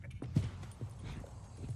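Horse hooves clip-clop on the ground in the Western game Red Dead Redemption, a few uneven footfalls, fairly close and soft over a low background hum.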